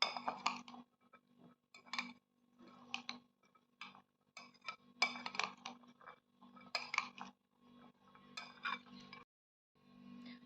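Chana chaat being stirred together with coriander and a squeeze of lemon in a bowl, a run of light spoon clinks and taps against the bowl in irregular bursts, close and fairly quiet, with no talking.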